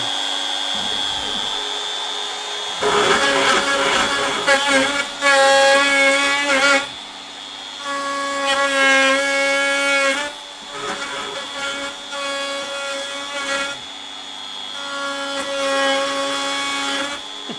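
A milling machine cuts an aluminium con rod, its spindle whining steadily while the cutter chatters and screeches in bursts of several seconds that rise and fall, close and fairly loud throughout.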